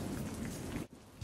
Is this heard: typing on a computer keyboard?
no